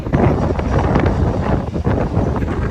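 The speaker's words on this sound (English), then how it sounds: "It's too windy." Strong wind buffets the microphone in a continuous low roar, steady and loud throughout with brief dips.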